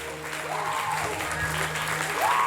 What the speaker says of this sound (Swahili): Mpe Bwana makofi mazuri.